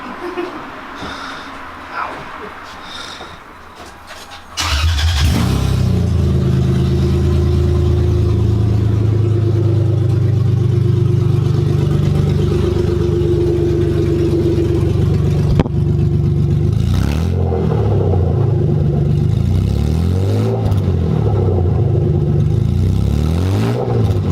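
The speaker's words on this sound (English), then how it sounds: "We're gonna see what it sounds like without an exhaust," A Lexus IS300 engine with headers only and no exhaust fires up and runs with a loud, raw, unmuffled roar, then revs several times in rising and falling bursts, very close.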